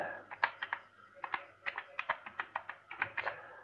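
Fingers type a password on a computer keyboard, about a dozen quick, close, crisp key clicks in uneven bursts over a quiet background.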